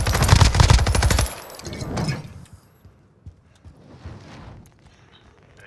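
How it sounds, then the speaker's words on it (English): Gunfire in Call of Duty: Warzone Rebirth duos opens with a loud, rapid automatic burst lasting just over a second. Fainter scattered shots and game noises follow, with no voices. "Hear shots over here."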